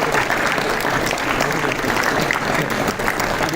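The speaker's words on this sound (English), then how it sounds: "We need to keep having a big round of applause for Dr. V. Narayan for his time today." Audience at an IEEE international conference giving a round of applause, a dense, continuous burst of clapping filling the room at a steady, loud level from start to finish.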